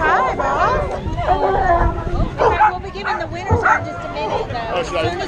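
A protective dog at a dog park barks and yips in short bursts that rise and fall under near-constant chatter and close talking from several people.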